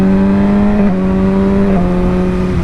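A Yamaha R6 motorcycle with a quickshifter accelerating hard through the gears, a loud, high engine whine with quick clipped dips at each upshift, close and dominant.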